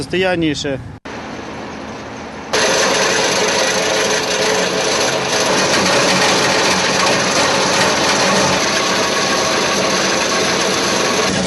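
A road milling machine grinds asphalt for pothole repair on a worn road, a loud, steady mechanical roar and rumble that starts abruptly and continues unbroken, following a brief stretch of speech at the start.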